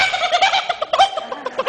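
A voice imitates a chicken squawking as it flees someone trying to catch it, rapid, loud, choppy clucks and squawks in an uneven burst with no speech.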